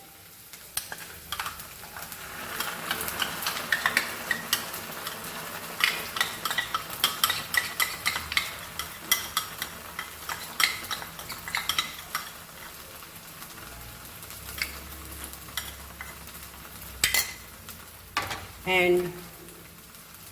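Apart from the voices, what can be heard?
ground masala frying and stirred with onions in pan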